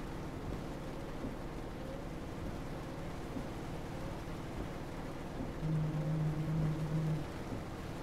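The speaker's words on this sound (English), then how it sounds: "Oh, rain." Steady rain falls in the Euro Truck Simulator 2 driving game, a continuous wash of noise over a low truck engine drone, with a slightly louder stretch near the end and no talking.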